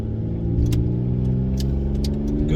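A Chevy car engine hums steadily while driving, a low, even drone with faint clicks and rattles on top, no talk.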